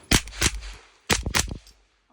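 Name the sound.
B&T TP9 firing with B&T suppressor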